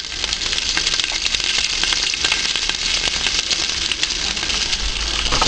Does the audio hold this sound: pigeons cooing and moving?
no